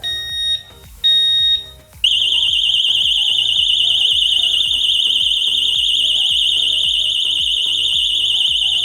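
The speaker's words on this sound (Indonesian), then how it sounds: "jadi kalau dibuka ternyata dia juga bunyi alarm" A few short beeps from a motorcycle disc brake lock alarm, then a piercing, continuous high-pitched electronic alarm that wails steadily and loudly from close by as the lock is forced.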